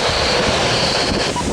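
Strong derecho thunderstorm wind roars in a dense, continuous rush, loud and buffeting for a brief moment with no voices.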